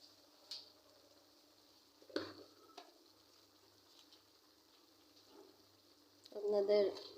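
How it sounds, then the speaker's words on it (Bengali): A pot of lau shak (bottle gourd greens) and shrimp curry simmers, giving a faint, steady bubbling hiss with a few soft clinks and a louder utensil clatter near the end. "এই যে বলক চলে এসেছে"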